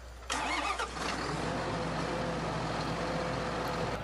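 A John Deere tractor engine in Farming Simulator 2013 cranks and catches, then settles into a steady, rumbling idle that continues close by and loud.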